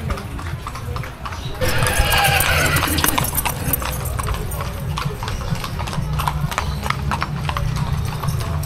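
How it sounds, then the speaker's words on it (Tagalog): A horse pulls a carriage (karitela) through the old town of Plaridel during a festival, its hooves clip-clopping in a steady close rhythm, with a whinny early on and people talking alongside. "Ito pa ang ating karitela at kabayo."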